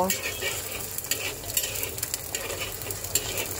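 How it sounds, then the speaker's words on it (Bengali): Chopped garlic fries in oil with black cumin seeds, a steady close sizzle broken by scraping stirs of a spatula in the pan. "রসুনটাকে আমি সুন্দর করে ভেজে নেব।"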